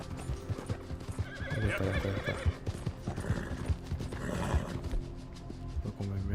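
A horse in Red Dead Redemption 2 clip-clops along and whinnies amid game sound effects, with a brief spoken phrase over the hoofbeats.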